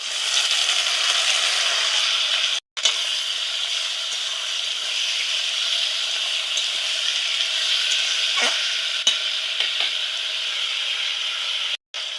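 Boiled elephant foot yam stems fry in a pan, giving a steady, loud, continuous sizzling hiss with occasional stirring clicks and two brief dropouts.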